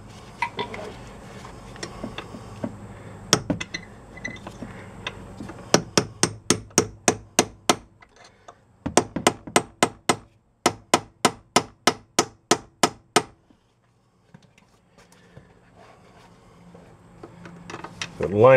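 A hammer strikes a punch to drive a CV axle into a Chevy Impala, sharp metallic taps in quick rhythmic bursts separated by pauses, close and loud over a quiet garage background.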